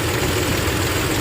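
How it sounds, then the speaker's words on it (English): A 2002 Nissan Xterra's 3.3-litre VG33E V6 idling, a steady, close, continuous engine hum with low rumble and no speech. "good little running engine"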